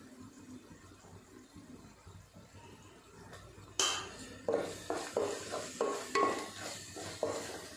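Tomatoes softening in a pan, stirred with a spoon: a run of close, rhythmic scraping strokes over a faint background sizzle, starting abruptly partway through.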